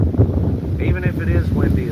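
Strong wind blows across a microphone outdoors, buffeting gusts rumbling low and constant under a person's voice.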